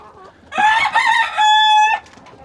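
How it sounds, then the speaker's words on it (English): Rooster crowing in a farm barn at morning chores: one loud, close cock-a-doodle-doo lasting about a second and a half, rising then holding a long final note, with no talk. "Rooster's first out today."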